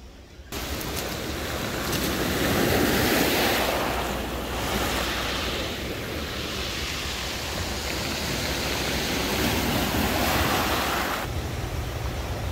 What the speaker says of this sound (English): it is nice to be back at the ocean